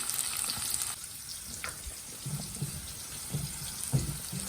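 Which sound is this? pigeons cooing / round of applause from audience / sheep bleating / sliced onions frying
sliced onions frying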